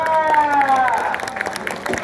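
A crowd claps for a wrestling winner, with scattered applause building into quick, uneven claps after a loud voice over the crowd at the start, fairly close.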